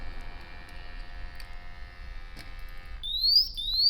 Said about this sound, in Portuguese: Ele vai dar um alarme, porque ele vai estar desligando a bomba.